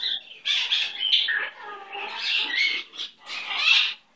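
Pet bird Sasquatch squawking and chirping up close, a string of short harsh squawks and warbling calls in quick irregular bursts, heard alone.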